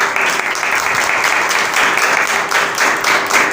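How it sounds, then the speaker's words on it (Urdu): A church congregation claps for two newly arrived guests at a sermon, loud, close and dense applause running without a break and with no talking on top. "پرویز صاحب آئے ہیں، ان دونوں بہن بھائیوں کے لیے تالی بجائیں۔"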